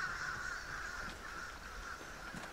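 Crows caw faintly in the video game Vigor, a distant, steady outdoor layer with no other sound over it.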